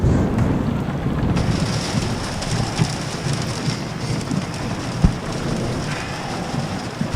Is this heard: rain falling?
yes